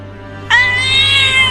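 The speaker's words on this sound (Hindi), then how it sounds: "अरे ये बिल्ली तो पिंजरे में से निकलने की कोशिश कर रही है।" A cat inside a cage, trying to get out, gives one loud, drawn-out meow that rises sharply and holds steady, heard up close with no talking.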